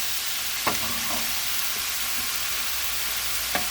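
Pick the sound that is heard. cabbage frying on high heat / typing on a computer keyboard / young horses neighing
cabbage frying on high heat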